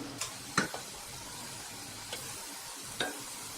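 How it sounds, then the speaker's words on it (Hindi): Rice murukku dough shapes frying in hot oil over a low flame: a steady soft sizzle throughout, with a few sharper clicks or pops near the start and end, close by and with no talk. "अब मैं इसे इसमें डाल दूँगी और इसी तरह और इसी में बना के शेप इसमें तेल में छोड़ दूँगी।"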